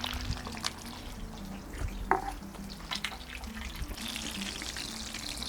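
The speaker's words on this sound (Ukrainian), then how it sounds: "І обсмажуємо." Chicken skins frying in a pan, a soft, low sizzle with occasional light clinks and splashy bursts, fairly quiet and close without any talk.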